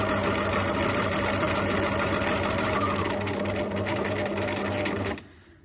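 A sewing machine stitching a zigzag appliqué edge runs steadily and close with a continuous mechanical hum and rapid needle rhythm, then stops abruptly near the end.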